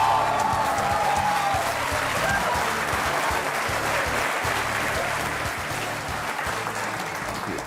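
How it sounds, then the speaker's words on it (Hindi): A studio audience claps steadily for a singer's entrance at a Hindi television show, a dense, sustained wash of many hands that fades slightly toward the end, with faint tonal sounds in the background. "और ये तालियां बजते रहें"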